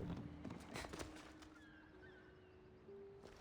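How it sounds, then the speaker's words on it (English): Faint horse hoofbeats clip-clop in Assassin's Creed Odyssey, a few soft steps mixed into quiet game ambience with a light tonal hum. "Look, a horse."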